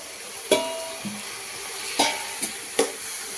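Chicken pieces sizzle and fry in a pan for chicken pulao while a spoon stirs them, with several sharp scraping clacks against the pan over a steady close frying hiss.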